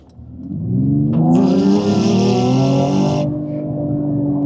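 An engine revs up and holds at high pitch for a couple of seconds, a loud close whining drone that then eases back down.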